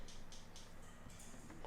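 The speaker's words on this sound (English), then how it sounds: "is an air can with the envelope shaped like a really short pluck" An air-can noise preset in FL Studio with a very short pluck envelope, playing a few brief hissing bursts of bright noise in a repeating pattern, alone and quiet over a low hum.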